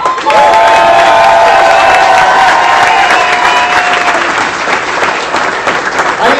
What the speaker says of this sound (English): Let's give a big round of applause to Marine combat veteran Brandon Wheeler.